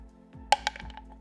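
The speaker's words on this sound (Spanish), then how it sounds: "A mí me gusta dejarla caer porque suena así" A stone dropped into a bowl lands with a sharp clink, then a few quick smaller bounces and a faint ringing tone, heard close and quiet.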